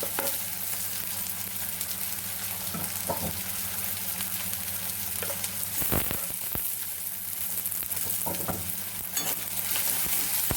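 Onion, tomato and capsicum sauté in a pan, a continuous close sizzle broken by stirring scrapes and utensil knocks, with no voices.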